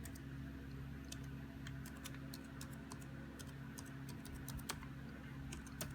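Quick, irregular keystrokes on a keyboard at a Dell laptop, with sharp clicks scattered over about six seconds above a steady low electrical hum, no talking.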